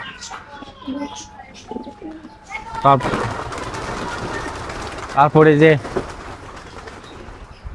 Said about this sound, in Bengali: এখানে আমার গিরিবাজ একজোড়া কবুতর আছে